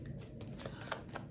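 Tarot cards are shuffled by hand up close in a continuous papery riffle, with soft bursts of flicking recurring every few tenths of a second and no voices.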